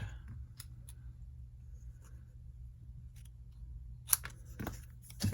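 Scissors trimming paper on a mouse-pad work mat during a paper-crafting session, with quiet snips and rustles over a low steady hum and a sharper cut near the end.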